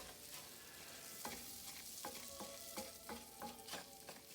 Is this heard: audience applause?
no